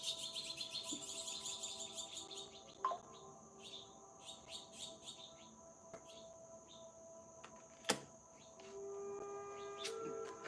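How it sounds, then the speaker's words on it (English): Birds chirp outdoors in quick repeated high tweets and trills, fairly close and clear, with a faint insect-like buzz in the background and no talking. "I'm going to just ignore the birds for now."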